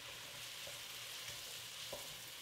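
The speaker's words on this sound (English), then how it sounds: "And then once we do that, we're just going to stir it around." Garlic sautés in a pan while being stirred: a soft, steady sizzle with faint scraping strokes from the stirring, quiet and close.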